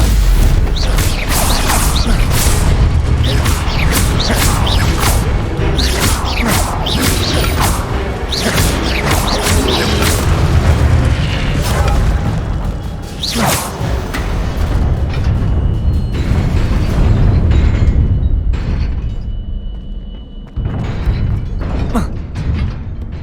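Spell casting in the Hogwarts Legacy video game, a dense run of loud magical bursts, whooshes, crashes and booms in quick succession, with brief spoken incantations mixed in and a quieter lull near the end.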